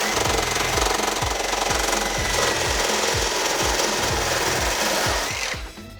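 Power tool blade grinding against a catalytic converter anti-theft guard, a loud continuous harsh cutting roar with rapid rhythmic chattering thuds as the blade bounces and flaps, running steadily for about five seconds before cutting off.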